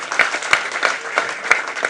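Audience applause at a business capacity-building workshop in a hotel, a steady wash of many hands clapping with a few sharper peaks, fairly close and continuous throughout.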